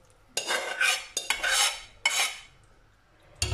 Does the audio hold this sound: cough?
no